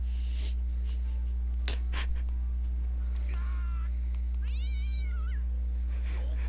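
A cat meows a couple of times over a steady low hum and soft background music, the calls fairly clear but modest in level, from the video game Shin Megami Tensei Digital Devil Saga.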